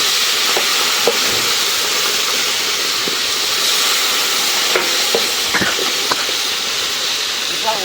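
Marinated meat fries in a big pot with cardamom and cinnamon, cooked for a large crowd. A loud, steady sizzling hiss continues throughout, with scattered clicks and faint voices in the background.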